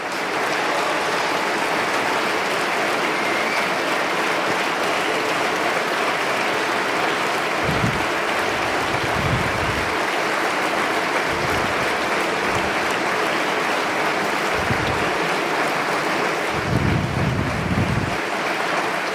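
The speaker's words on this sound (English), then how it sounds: "Your applause, Kübra Gümüşay." Audience applause fills a conference hall after a talk at re:publica 2017, a dense, sustained clapping that runs on loudly and evenly, with a few heavier thumps toward the end.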